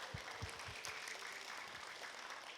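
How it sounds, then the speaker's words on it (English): A short burst of applause from schoolchildren at a school gathering for a mystery reader, heard as a few distinct claps at the start and then a soft, faint patter of clapping. "Another round of applause for our wonderful mystery reader."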